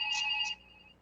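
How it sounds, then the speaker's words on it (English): A mobile phone ringtone goes off during a Belfast City Council budget meeting, a bright, clear electronic tone sounding twice in quick succession, then cutting off, with no talk over it. "sorry about my phone ringing"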